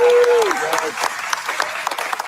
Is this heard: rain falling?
no